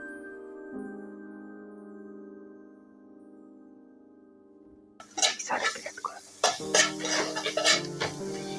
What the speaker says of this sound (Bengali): এটা ভালো করে আবারও 2 মিনিট ধরে ভেজে নেব